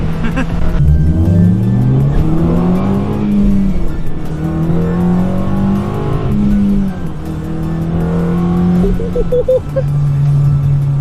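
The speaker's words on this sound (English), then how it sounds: "after the intake install, you can actually hear the crossover for the VTEC a lot more" A 9th-generation Honda Civic Si with an Injen intake revs hard, the engine note climbing and dropping through several loud, close pulls with the VTEC crossover, dominating throughout.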